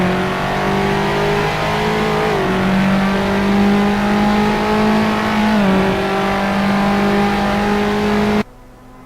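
A race car engine in a sim racing game at Silverstone screams at high revs and bounces off the rev limiter, loud and continuous with brief pitch dips at gear changes before cutting off.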